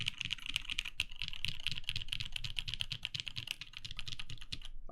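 Rapid, steady typing on a TGR Jane V2 CE mechanical keyboard fitted with NovelKey Cream switches, dense keystrokes clacking continuously and close up with no talking.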